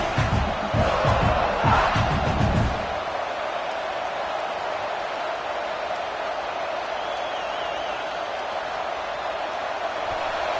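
A football stadium crowd roars loudly for a few seconds, then settles into a steady, broad wash of distant crowd noise that carries on alone.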